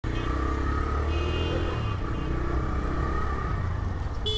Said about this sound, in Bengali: চলেন আপনাদের তাহলে এই বাইকের সাউন্ডটা শোনাই